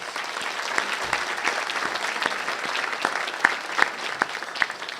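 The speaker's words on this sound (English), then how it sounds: "Let's give them a round of applause." An audience at a public event applauds the employees of the Illinois Department of Commerce and Economic Opportunity with sustained, moderately faint clapping that has scattered sharper claps standing out.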